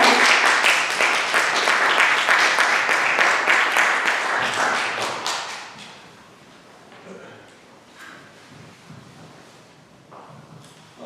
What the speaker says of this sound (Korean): 다시 한번 관장님 큰 박수를 모실게요